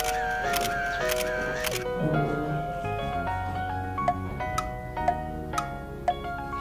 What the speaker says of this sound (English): I'm going to take a selfie of mine.